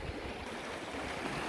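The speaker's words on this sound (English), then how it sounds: "I just have to cross this creek to get there." A short burst of steady rushing creek water, close by and continuous, with no voices.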